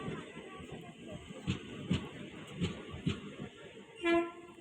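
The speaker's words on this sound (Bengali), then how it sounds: "আর এই যে আমাদের ট্রেন আসছে, এই যে ট্রেন চলে এসছে" A train arriving at a station sounds several short horn toots over a low rumble of wheels, ending in a louder sustained toot, all moderately distant with no clear talking.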